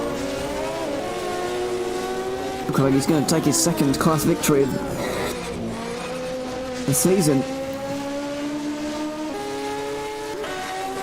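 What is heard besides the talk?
Group H special race car driving a hill climb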